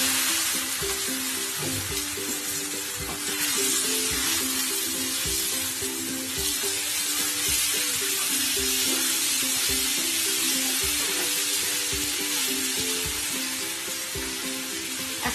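Rice sizzles loudly as it fries with browned fried onions in hot oil for plain pulao, a steady close hiss lasting throughout with faint stirring scrapes beneath.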